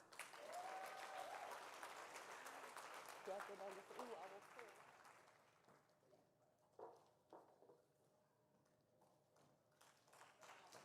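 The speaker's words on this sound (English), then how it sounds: "We must clap one more time." An audience applauds at a women's leadership awards ceremony, a sustained wash of clapping that fades into scattered claps, with a voice speaking over it, recorded faintly from a distance.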